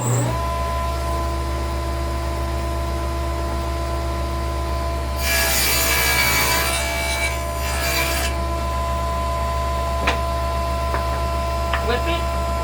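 A wooden workpiece clamped in a jig while a dado cut is sawn, heard as a few seconds of steady rasping back-and-forth strokes over a constant machine hum, followed by light knocks and handling.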